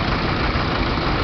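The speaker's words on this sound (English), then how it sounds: "Then we move on to the International 766." An International 766 tractor engine idles close by in a brief, loud, continuous low rumble with no voices over it.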